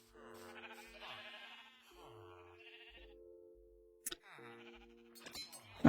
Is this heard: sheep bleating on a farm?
yes